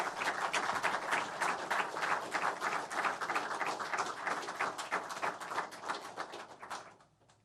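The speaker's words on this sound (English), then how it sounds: "if you could give him a round of applause" Crowd applause at a police association event for an officer, a sustained, fairly distant patter of many hands clapping that fades out at the end.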